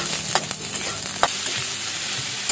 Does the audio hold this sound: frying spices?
yes